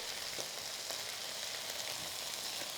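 Chopped carrot and other vegetables fry in a pot with a continuous, even hiss of sizzling that stays steady and close throughout, with no one speaking.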